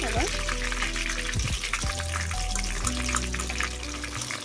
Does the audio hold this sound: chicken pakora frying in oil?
yes